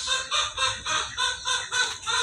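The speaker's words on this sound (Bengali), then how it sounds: "এই যে মুরগি দেখেন" Chickens clucking and cackling in a yard, a steady run of close, fairly loud bursts in regular pulses, with no talking over them.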